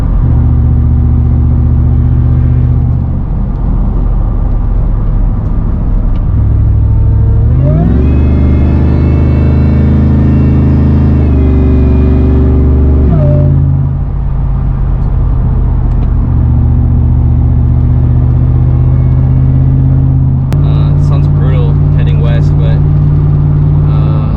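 A light truck fitted with coilovers drives and bounces along the road, its engine droning loudly and rising and falling as it revs, with a short burst of rattling near the end.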